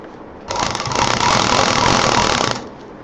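A sewing machine runs steadily for about two seconds, stitching the belt of a homemade college bag, its rapid needle chatter loud and close with a clear start and stop.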